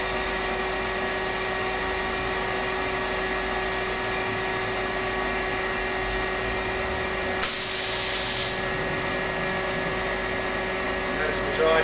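An Airquip 15 kW variable-speed screw air compressor runs with a steady, close mechanical hum and whine, broken once by a loud hissing burst of air that lasts about a second.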